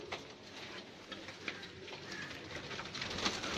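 Pigeons of a fancy photogenic breed coo faintly in a loft, soft murmuring calls with light scratching and patter in the background.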